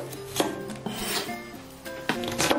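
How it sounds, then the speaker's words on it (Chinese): A kitchen knife slices onion on a cutting board. Several distinct cuts, each a short rasping stroke, come in an uneven rhythm, close and fairly loud, with no talking. "准备点洋葱切片"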